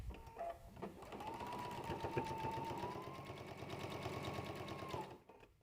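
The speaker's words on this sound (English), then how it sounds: "Now let's step to our machine and sew these together." A sewing machine stitches together fabric pieces and borders for a quilted pillow. It runs in one steady, rapid, close-up mechanical burst of several seconds that starts and stops cleanly, with nothing else heard.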